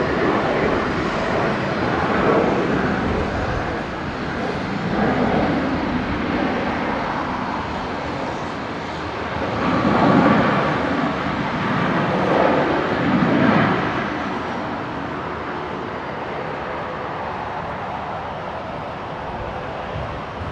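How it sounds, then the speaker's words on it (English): A Velocity passenger jet in from Sydney touches down at Brisbane Airport, its engine roar a broad, distant rumble that swells in the middle, then eases into a steady background drone. "Velocity 951, just touching down there, in from Sydney"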